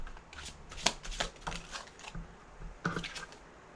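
Tarot cards being shuffled and drawn, a run of crisp papery riffles and snaps close by with a quiet pause before a final flurry of card flicks.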